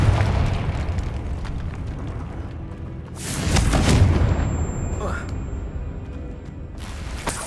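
The Confringo blasting spell in Hogwarts Legacy goes off as a deep, rumbling explosive boom partway through, over a dense background of game effects, with a brief voice heard.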